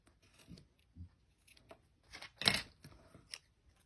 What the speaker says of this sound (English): take my snips, snip that off